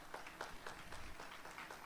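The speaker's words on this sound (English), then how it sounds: "let's give them a round of applause to let the teachers and the support staff know" Middle school promotion ceremony audience claps for teachers and support staff, a thin, distant patter of scattered hand claps with an uneven rhythm, faint and steady from start to finish.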